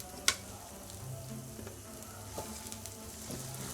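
Green chili pickle with spices cooks on low heat while being stirred slowly, producing a soft, even sizzle with a sharp tap near the start and a few faint scrapes, all quiet and close.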